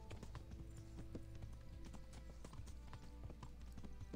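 Horse galloping in the medieval video game Kingdom Come: Deliverance, quick rhythmic hoof clops pounding steadily beneath a low ambient rumble, faint and continuous throughout.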